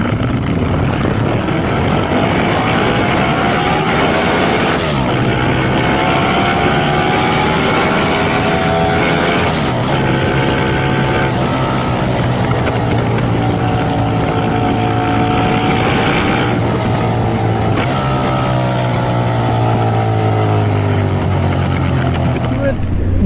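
A Ducati track motorcycle engine on the move, its revs sweeping up and down through several gear changes amid steady wind rush, with someone talking over it throughout.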